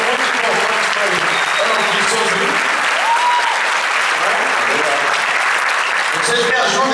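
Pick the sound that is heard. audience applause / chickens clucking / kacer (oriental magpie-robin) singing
audience applause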